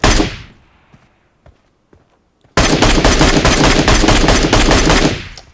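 Rapid automatic fire from a 5.56 rifle in a battle-royale video game: one loud shot fading out, a few faint ticks, then a long sustained burst of close, loud fire.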